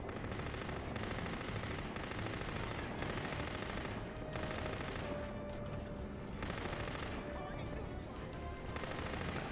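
Continuous rifle and automatic gunfire from the shooter game Killzone 3 rattles on throughout, dense rapid bursts layered with battle noise and faint tonal beeps.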